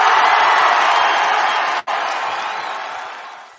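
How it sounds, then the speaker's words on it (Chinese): A crowd cheering sound effect plays on a live radio show: a loud, dense wash of cheering and whooping that holds steady, cuts out for an instant midway, then fades gradually. "给你一个欢呼声哦"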